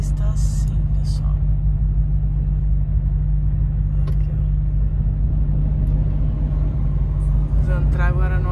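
Low, steady road rumble inside a car moving through traffic in Bordeaux, continuous and close, with a voice speaking briefly near the start and again toward the end.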